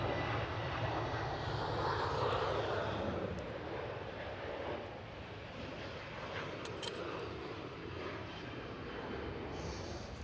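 KLM Boeing 737-700 airliner at Amsterdam Schiphol airport, a steady, loud jet engine roar that holds throughout with broadband rumble, heard alone.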